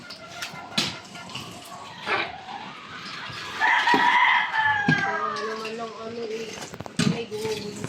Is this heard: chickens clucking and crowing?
yes